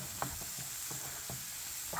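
Quiet tempering with red chili powder and turmeric for a moong and masoor dal with ridge gourd, a soft hiss with a few faint stirring scrapes and light pops spaced through the short stretch.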